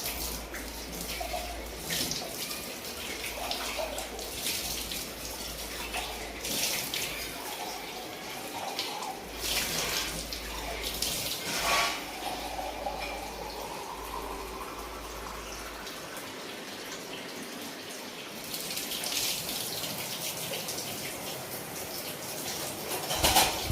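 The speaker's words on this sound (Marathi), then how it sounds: "मोटर बोर चालू केला ना ह्यातून पाणी येतं आता बोर चालू आहे" Water gushes steadily from a tap fed by a borewell motor pump, a continuous splashing rush with a low motor hum underneath for much of the time.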